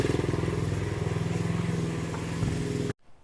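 A 1970 Honda CL100 motorcycle, recently freed from a seized engine, idles close by with a rapid, loping single-cylinder putter and some mechanical clatter, then cuts off abruptly near the end.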